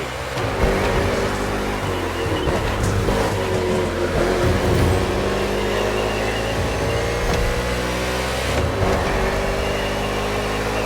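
A steady, loud roar of NASCAR stock car engines in The Crew Motorfest, racing on an urban street circuit in Honolulu, Hawaii, with droning pitch that shifts gradually and no break in the engine noise.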